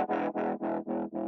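A distorted synth patch with tremolo at full depth pulses in five even, deep throbs, each swell cut almost to silence before the next, loud and alone with no talking.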